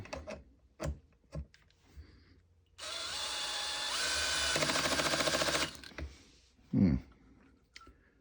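A DeWalt 12V drill driver with the clutch set to 4 runs for about three seconds in a steady whir that rises partway through. Handling clicks and knocks come before and after.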